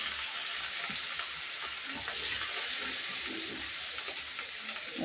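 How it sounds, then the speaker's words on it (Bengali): Pieces of rohu fish frying in a pan of oil, giving a steady, close crackling sizzle with a few faint scrapes and clinks of cooking, and no talk. "তো মাছ ভাজা হতে থাক।"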